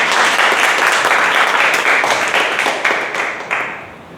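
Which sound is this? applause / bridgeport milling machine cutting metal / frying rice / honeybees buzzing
applause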